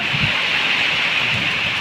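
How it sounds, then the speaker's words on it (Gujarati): Steady rain falls near a temple, a continuous dense hiss with no speech over it. "ઓ વરસાદ પડે"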